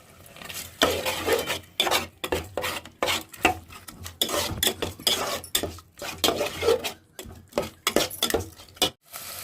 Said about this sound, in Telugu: ఇప్పుడు ఏం చేయాలంటే దీన్ని బాగా కలబెట్టుకోవాలి